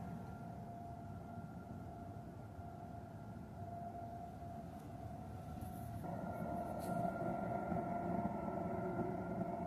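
A freight train approaches along the tracks at night, a low rumble and steady tonal hum building gradually, with a horn-like whine rising at the end.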